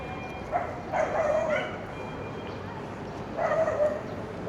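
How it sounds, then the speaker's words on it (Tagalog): Dogs being walked along a city street in a new urban district bark in two short bursts over a steady outdoor hum of traffic and passersby. "May mga aso. May mga dalang mga aso."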